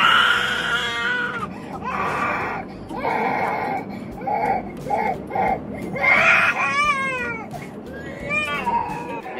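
Baby crying on an airplane, a loud, close infant wailing in repeated bursts and whimpering sobs across the whole stretch, with cabin noise underneath.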